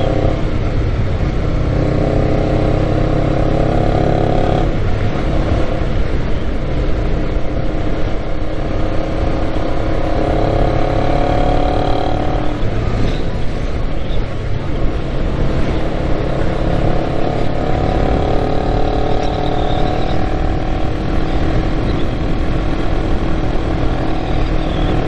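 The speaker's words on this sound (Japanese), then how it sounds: "この音聞こえてんのかな、 マフラーの音。" A 250cc motorcycle with a quick shifter roars continuously throughout, a close, loud exhaust rumble mixed with rushing wind, rising and falling slightly as the bike rides along.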